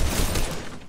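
A short, dense burst of rapid gunfire from a Fortnite match. It plays loud and close for under a second, with shots blurring together.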